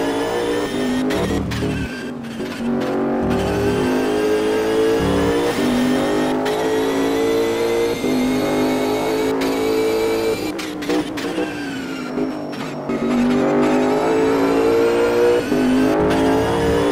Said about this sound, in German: Wir sind jetzt bei Dennis Erner im Auto.